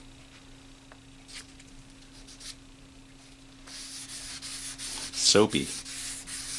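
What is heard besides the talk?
wet sanding guitar body with 600 grit sandpaper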